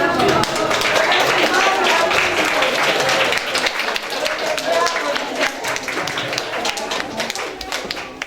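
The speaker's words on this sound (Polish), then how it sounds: "Proszę Państwa, ja myślę, że należą się ogromne brawa." Audience at a nursery nativity play gives loud, sustained applause, dense clapping continuing steadily throughout with slight thinning toward the end.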